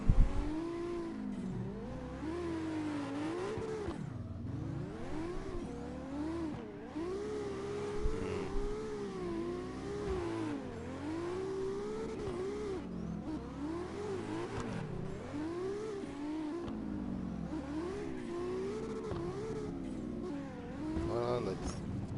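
A Citroen car engine in the CarX Drift Racing video game revs steadily and loudly up close, its pitch climbing and dropping in repeated waves as the throttle rises and falls for the whole stretch.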